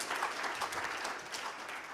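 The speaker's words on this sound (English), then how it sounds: "Please join me in giving her a round of applause." An audience at a conference session gives a speaker a round of applause, a short, continuous patter of many hands clapping that stays steady throughout.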